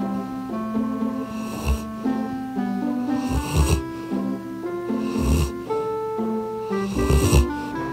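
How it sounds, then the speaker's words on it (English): Loud, rhythmic snoring from a woman repeats about every two seconds, with raspy snorting inhalations close to the listener over a steady musical tone. "She snores like crazy."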